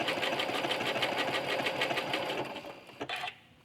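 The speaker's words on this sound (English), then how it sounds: "I'm going to start stitching my heart, pressing my button so that it's going to stop after it completes a full decorative heart." A sewing machine stitches a decorative heart while tacking a quilt, a fast, close, steady needle chatter that slows and stops near the end, followed by a couple of small clicks.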